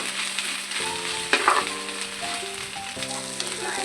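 Ingredients for egg fried rice sizzle steadily in a hot pan, a close continuous frying hiss with a few scraping stirs, while faint tonal notes, likely music, sit underneath.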